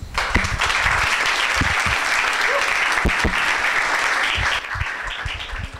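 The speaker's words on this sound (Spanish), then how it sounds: "les pido que por favor les demos un gran aplauso" A live audience applauds steadily at a Spanish-language talk on liberalism, dense clapping filling the room for several seconds and easing slightly near the end.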